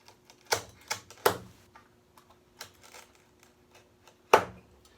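A utility knife cuts and trims wood on an oval frame, making a few sharp scraping snicks with quiet gaps between them, close up and without speech.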